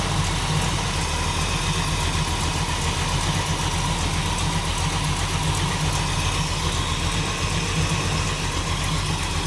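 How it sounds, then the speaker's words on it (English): A 1937 Buick street rod engine idles with a leaking exhaust manifold, giving a steady, close, continuous running drone at even loudness with no speech. "manifold leak, you hear it right there"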